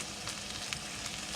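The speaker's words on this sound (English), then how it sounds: "And I'm going to get my butter cooking." Butter melting in a pan with carrots for a Thanksgiving side dish, giving a faint, soft steady sizzle with a few light stirring ticks, brief and quiet.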